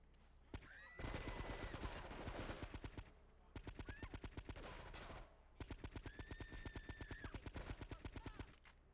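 Bursts of rapid submachine gun fire in GTA 3 Definitive Edition, three long sustained volleys separated by short gaps, loud and alone with no talk.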